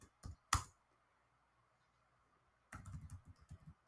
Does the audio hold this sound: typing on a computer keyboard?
yes